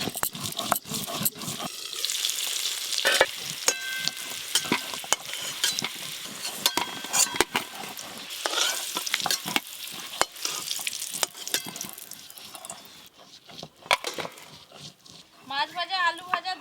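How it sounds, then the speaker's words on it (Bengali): Fish and potato pieces fry in a pan with a crackling sizzle broken by frequent sharp clatters of a stirring utensil, while a voice talks over it. "মাছ ভাজা আলু ভাজা দুটোই হয়ে গেল।"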